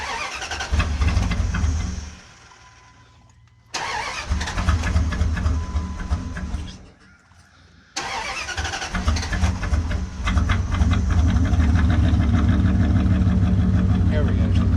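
A lifted, worn second-generation Dodge Ram pickup's engine cranks and runs loudly up close, cutting out briefly twice before settling into a steady, strong idle and rev.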